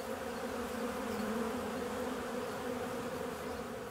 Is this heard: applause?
no